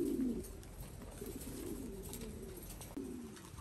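Thai Titan pigeons at a farm coo in low, soft, rolling calls that overlap through the whole stretch, from several birds close by, over steady background noise with no talk.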